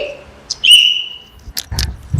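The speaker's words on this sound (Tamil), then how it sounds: "கமான் விசில் அடிங்க." A whistle is blown to start a children's race, sounding as one short shrill blast followed by a longer sustained tone, close and loud, with brief bursts of adult voices and movement after it.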